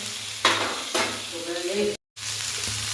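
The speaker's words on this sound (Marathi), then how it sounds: "तेल व्यवस्थित गरम झालं आहे त्या टायमाला मी याच्यावर हे टमॅटो परतून घेते या पद्धतीने" Tomatoes sauté in hot oil for a raw tomato chutney, giving a steady sizzle with a few sharp stirring scrapes. The sound cuts out briefly near the end and then resumes.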